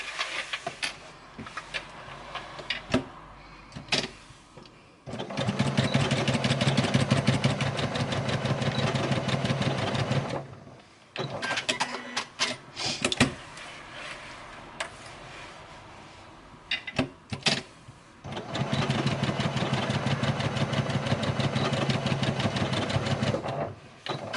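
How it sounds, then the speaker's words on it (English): A sewing machine stitches quarter-inch seams along both sides of a make-up bag, running in long steady bursts with short pauses and handling noises between them. "we're just going to sew on both sides 1/4 of an inch"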